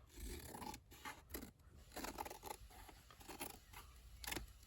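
Scissors snip and scrape through paper while a baby journal cover is being trimmed, a series of quiet, irregular cuts heard up close and alone.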